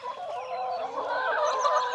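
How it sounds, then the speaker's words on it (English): Chickens cluck in a backyard in Pennsylvania, a close, continuous run of overlapping clucks and short calls with no talking. "the first thing that I come out the door and I hear is the chickens."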